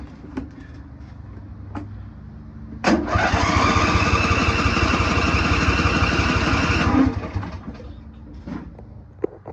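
A Briggs & Stratton Intek 21 HP small engine cranks and catches on partial choke, running loud and rough for about four seconds before cutting out, with quieter ambient noise before and after.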